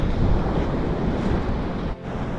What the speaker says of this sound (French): je peux t'assurer que ce sont les mêmes vagues qui arrivent de l'Atlantique et qui refoulent tout ce plastique